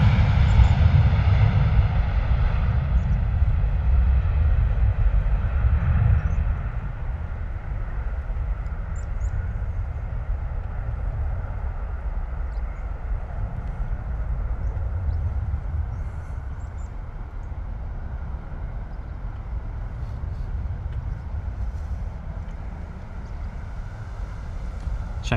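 Airbus A321 airliner departing London Stansted Airport, a heavy low engine roar and rumble, loudest at the start, then settling into a steady, slowly fading drone as the jet climbs away.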